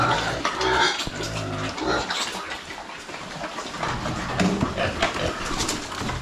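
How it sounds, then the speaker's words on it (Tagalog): Pigs in a farm pen grunt and squeal, with several rough, overlapping calls close by, mixed with splashing water and some background chatter. "Mga baboy natin dito, oh."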